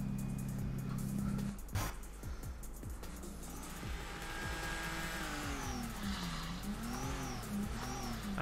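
Nissan 350z drift car tuned to about 1100 horsepower in Torque Drift, engine revving and rising through gears with shifts, tire squeal and skidding, loud and continuous.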